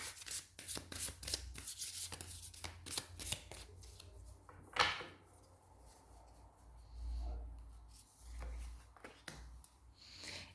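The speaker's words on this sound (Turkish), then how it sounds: "Rumi destesinden 3 tane kart alalım sürecinize dair" Rumi oracle cards are shuffled and drawn by hand, a close series of crisp riffling flutters followed by softer sliding and tapping of cards, with no talk.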